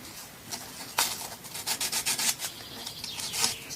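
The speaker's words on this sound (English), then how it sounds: "I'm going to do this by hand very, very carefully, using this little bit of sandpaper" Sandpaper rubbed by hand around the body corners of a Mexican-made Fender Stratocaster guitar, giving soft, close scratchy strokes in quick bursts with brief pauses between them.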